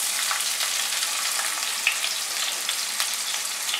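A large, finely chopped onion fries over medium heat, a steady bright hiss of sizzling oil with light stirring, close and even throughout.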